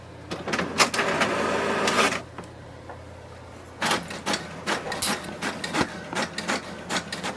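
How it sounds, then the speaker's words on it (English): An HP DeskJet 2652 inkjet printer running off a configuration page, with a sustained mechanical whir for about two seconds, then a quiet pause followed by a series of short clicking, feeding bursts, close and fairly loud. "it will send a command for the printer to print a page"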